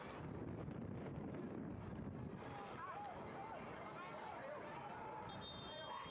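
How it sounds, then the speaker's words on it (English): Gusty wind buffets the microphone at an outdoor soccer match in Sherman, Texas, a low continuous rumble under a commentator's talk. "It is quite windy in Sherman, Texas."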